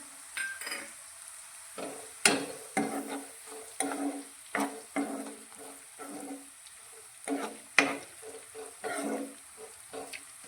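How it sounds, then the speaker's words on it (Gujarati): Onions and green chilies, with a couple of spoons of white sesame seeds added, sauté in a pan for bhindi shaak, giving a steady close sizzle broken by repeated scraping stirs of a spoon. "ડુંગળી અને મરચાંને આપણે એક મિનિટ માટે સાંતળીશું"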